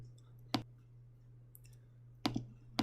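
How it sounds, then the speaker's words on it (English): A few sharp, isolated clicks on a computer keyboard, sparse and fairly close, over a steady low electrical hum in a quiet room. "I'm trying to get used to my keyboard here real quick."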